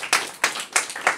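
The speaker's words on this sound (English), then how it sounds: "Can we give your families a round of applause, please?" An audience at a school showcase claps in a round of applause, heard as four sharp, evenly spaced bursts of clapping close to the microphone.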